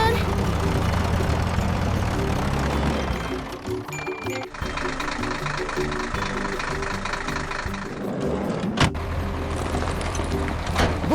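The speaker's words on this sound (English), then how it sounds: "Bulldozer digs the soil while water truck waters the field." Bulldozer and water truck engines in the Monkey Farm 3D video game, the bulldozer digging soil while the truck waters a field; a continuous rumbling engine drone runs throughout, layered with game music and a brief sharp effect near the end.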